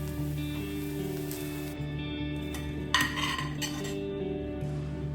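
A spoon stirs an ivy gourd fry with curry leaves in a pan, giving scraping clinks against the metal over a low steady hum, with one louder scrape near the middle.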